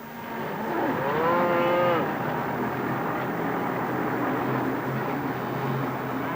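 A single drawn-out cow moo rises over a constant low background rumble, like traffic or machinery in the distance, at a Buenos Aires cattle market.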